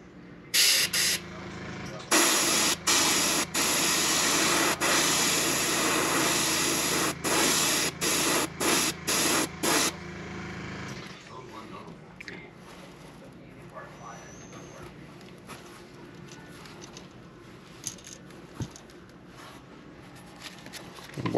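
An airbrush sprays color-shifting green paint onto a fishing lure in a loud, steady hiss broken into short bursts for about ten seconds, then stops, leaving quiet room sound.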